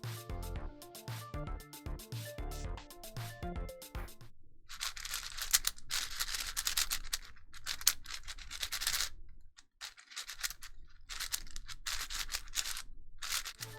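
A Vin4 V2 4x4 puzzle cube in matte plastic, 58.3 mm and 108 grams, turned by hand close up, giving rapid bursts of clicky, scratchy plastic turning with short pauses between runs.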